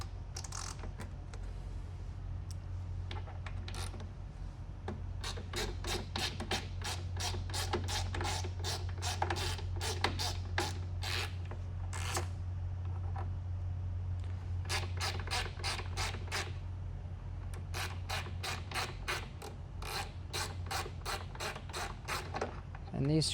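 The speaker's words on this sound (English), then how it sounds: "So you just take this little screw out." A Torx T15 screw being backed out of a Snap-on EPIQ tool cart, heard as rapid bursts of close, light ratcheting clicks separated by short pauses, with faint talk in the background.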